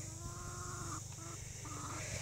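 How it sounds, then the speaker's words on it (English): Chickens clucking softly outdoors, a few short drawn-out calls in a row over a constant hum and hiss of background noise, fairly faint and without speech. "Hello, chicken. Hello, other chicken."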